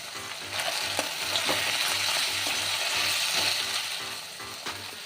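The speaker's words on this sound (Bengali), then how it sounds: "এবার মাংসটা ভালো করে ভেজে নেব" Goat meat sizzles and fries in a hot pan with goat fat, a steady crackling hiss with repeated scraping stirs, close and continuous with no talking.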